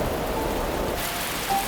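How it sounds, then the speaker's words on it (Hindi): Steady rainstorm outside, a dense even hiss of falling rain with faint low rumbles, constant throughout. "बाहर तूफान है।"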